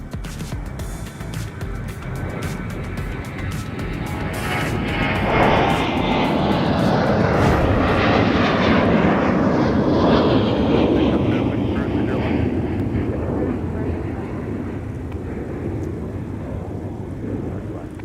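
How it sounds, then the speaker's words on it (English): An airliner departing runway 30 left at Minneapolis–St. Paul airport, a loud jet roar that swells as it passes closest then slowly fades into a long rumble, with voices speaking over it. "Take a look at our instant replay here of our Gopher Pod departure off 30 left."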